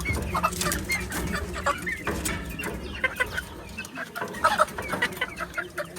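Desi chickens, including a rooster, cluck repeatedly at close range on a confined poultry farm, with busy overlapping calls from several birds throughout.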